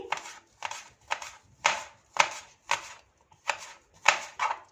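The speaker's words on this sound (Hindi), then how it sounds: "हरी प्याज भी इस तरह से कट लगा लेंगे, इसे चॉप कर लेंगे।" Green onions are chopped with a knife on a board, about nine crisp, evenly spaced cuts close by, each a short sharp knock with no talk over it.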